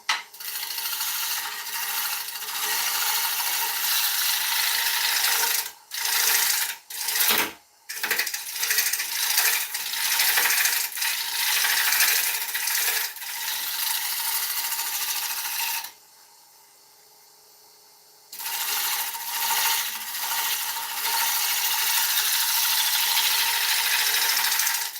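A roughing gouge shaves a spinning wood blank on a lathe, a loud continuous rasping scrape broken by short gaps and one longer pause.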